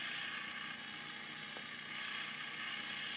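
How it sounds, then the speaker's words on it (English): Geared drivetrain of a homemade budget RC wheel loader spinning its axle and output gear, a steady whirring mechanical hum with faint ratcheting clicks, close and fairly quiet. "there it is running. Turns the axle, and it turns this gear out of the end here"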